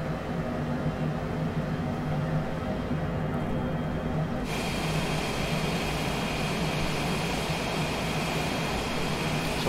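Cessna Citation Longitude business jet in Microsoft Flight Simulator, engines throttling up: a steady broadband cockpit roar that suddenly brightens and thickens into a louder, hissing jet whine midway through, continuous and close.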